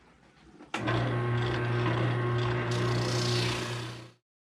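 A sanding disc roughs out the grip of a wooden longbow, starting abruptly with a steady loud motor whine and constant abrasive hiss that holds for about three seconds before cutting off, with no talk.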